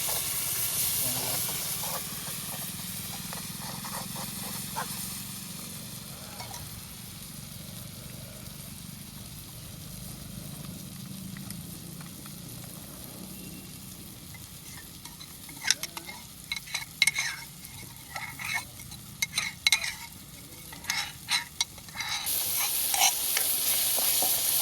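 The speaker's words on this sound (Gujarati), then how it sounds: "આપણે હવે મરચાંનો વઘાર કરી દીધો છે બટાકા માટે." Green chillies tempering in hot oil for potatoes, a steady hiss and sizzle that runs throughout, joined later by quick clinks and scrapes of stirring in the pan, close and moderately loud.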